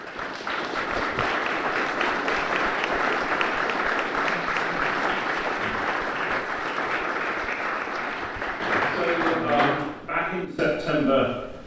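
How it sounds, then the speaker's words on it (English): Sustained audience applause honours RNLI lifeboat volunteers and crew at a 200th-anniversary event, a dense, steady wash of clapping for about nine seconds before a voice speaks at the end. "So let's give them all a round of applause."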